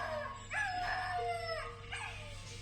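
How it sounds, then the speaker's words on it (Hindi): Dogs howl in a rising, wavering cry at a quiet rural spot at night, with a second mournful howl following after a short pause, both fairly loud and close against a low steady hum. "बच्ची के मुंह से कपड़ा हटाते ही कुत्तों ने रोना शुरू कर दिया"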